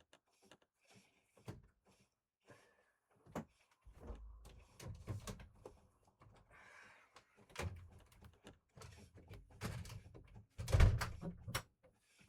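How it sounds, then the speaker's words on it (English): A door is shut indoors with a few soft knocks and handling sounds building up to a single solid thud near the end, fairly quiet and close. "I'm gonna shut my door."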